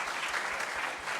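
Audience applause at a theological school's vision night fundraiser, a dense, even wash of clapping from a crowd, moderately loud and continuous for the whole short stretch.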